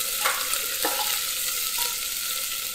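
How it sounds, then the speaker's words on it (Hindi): Onions fry over medium heat with whole spices for Kashmiri pulao, a close, steady hissing sizzle broken by a couple of stirring scrapes. "इस प्याज को बिल्कुल वैसे ही फ्राई करना है जिस तरीके से हम बिरयानी के लिए ब्राउन ऑनियन तैयार करते हैं"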